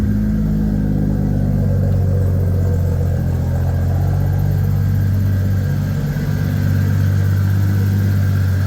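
A turbocharged 2JZ engine swapped into a Nissan 300ZX idles close by, a loud, deep, steady rumble with a faint mechanical whine from the VVTi gear riding on top.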